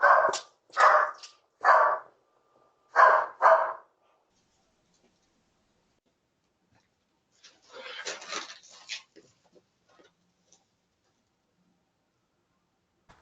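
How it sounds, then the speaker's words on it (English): A dog barks at an intruder at a house door at night, caught on a Ring doorbell camera: five loud, close barks in quick succession, then quieter scuffling and muffled sounds after a pause. "But then, dog steps in,"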